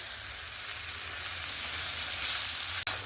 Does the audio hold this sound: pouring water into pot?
no